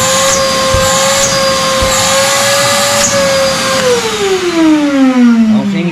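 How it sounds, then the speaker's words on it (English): A 9-gallon shop vac runs with a loud steady motor whine that holds level, then sags lower in pitch near the end as the load changes. "He's got him a 9-gallon vacuum shop vac now."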